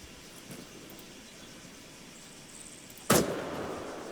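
A single sharp rifle shot cracks out on a firing range in the video game Arma 3, loud and close, followed by a short echoing tail over quiet ambient background.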